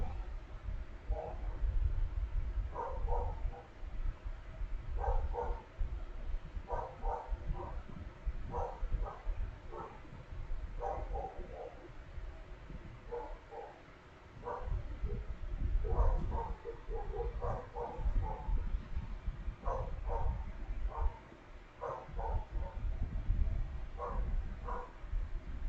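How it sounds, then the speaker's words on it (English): Neighbours' dogs on Trinidad's North Coast Road bark repeatedly in the background, in short irregular bursts over a steady low outdoor rumble. "Now if you're hearing a dog barking in the background, that's neighbors' dogs."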